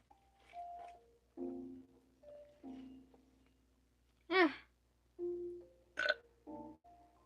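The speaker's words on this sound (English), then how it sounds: "Burp." A person burps several times during a Saturday work stream: short, voiced, croaking bursts in an irregular sequence, close and fairly loud, with quiet gaps between them.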